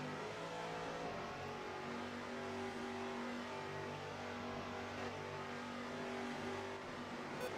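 Race cars roaring around a track at the Chevy Rock and Roll 400, a continuous distant engine drone with shifting pitch as cars circle, heard at moderate-low level without talk.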